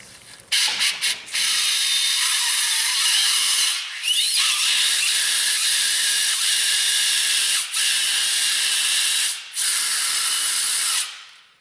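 A compressed air blow nozzle hisses loudly in a truck repair shop during a transmission job on a two-wheel-drive Chevy/GMC truck, in several long bursts separated by short pauses, close and without speech.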